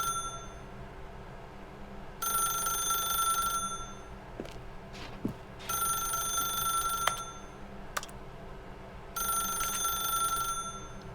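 A telephone in The Stanley Parable rings in three long bursts of bright electronic trills separated by pauses, with a few soft clicks and knocks between rings.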